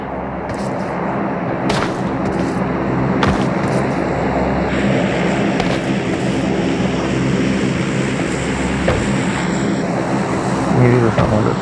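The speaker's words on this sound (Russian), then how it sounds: "Самолет летит, может, возьмем самолет?" A propeller airplane drones steadily overhead on the Vikendi map of PUBG Mobile, heard on a Samsung S10 Plus, while sharp gunshot cracks pop in now and then and a voice talks over it.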